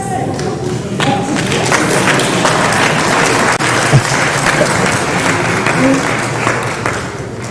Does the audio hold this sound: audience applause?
yes